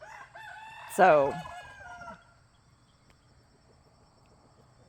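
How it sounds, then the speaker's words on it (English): Rooster crowing on a working farm: one loud, close cock-a-doodle-doo rising and falling over about a second, over a soft bed of crickets and distant outdoor ambience, with a brief spoken word. "All of the roosters has something to say."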